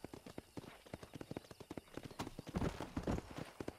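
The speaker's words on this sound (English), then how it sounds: "Control that horse, will ya?" Horse hooves clip-clop at a walking pace in Red Dead Redemption, a steady series of fairly close hoof strikes with a brief burst of louder movement near the end.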